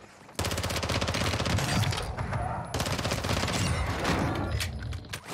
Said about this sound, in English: SPX, high velocity sniper